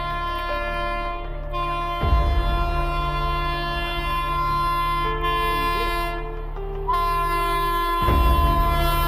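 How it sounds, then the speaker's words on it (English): A train's horn blares loudly and continuously, with steady sustained tones and the rumble of the train underneath throughout. "The sharp sound of the train's horn pierces the air"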